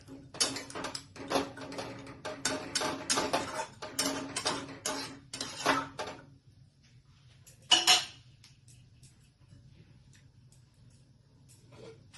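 A lid goes onto a pot of mutton kosha after water is added. A run of light metallic clinks and rattles is followed by quiet, then one sharp close clank.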